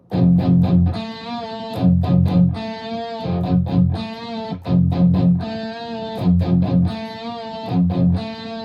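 A heavily distorted electric guitar chugs out a palm-muted riff in repeating bursts, with bent notes sliding down and back up between the chunky low hits.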